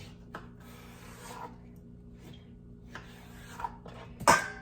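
A knife slices a cucumber lengthwise into long strips for a summer salad, giving soft rasping cuts at close range, with a sharper knock of the blade against the board near the end.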